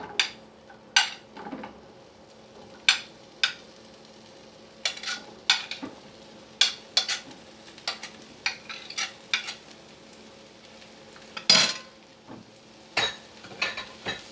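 Onions sauteing in a pan for white sauce pasta, with a soft steady sizzle under frequent sharp clinks and scrapes of a spoon stirring against the pan, close and alone.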